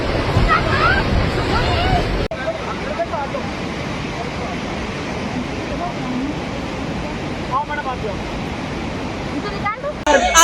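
Loud, continuous rushing roar of floodwater in Ahmedabad, Gujarat, after two days of heavy rain, a constant turbulent wash with indistinct voices and wind buffeting mixed in.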